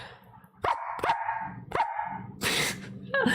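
A person imitates a dog barking, giving about five sharp, loud, close barks in quick uneven succession, with short pauses between them.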